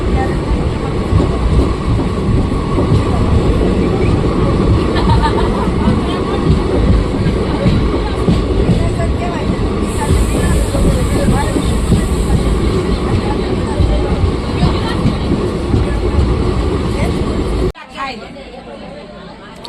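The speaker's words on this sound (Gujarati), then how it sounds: "આપણી ટ્રેન મિત્રો જેતપુરથી ઉપડી ગઈ છે ધીમે ધીમે જોઈ શકો છો" A passenger train pulls slowly out of Jetpur station, a steady rolling rumble with clickety-clack of wheels and chatter from people nearby, cutting off abruptly near the end.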